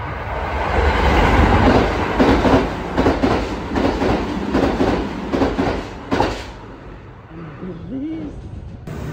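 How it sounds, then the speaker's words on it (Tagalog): A train pulls into a station in Japan, a loud continuous rumble with clacking wheels that fades toward the end as it slows. People talk now and then. "Okay, wait natin ang train."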